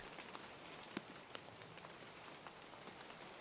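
Soft, quiet rain falling outside a tall window, a faint continuous patter broken by a few sharper isolated drips, no talking.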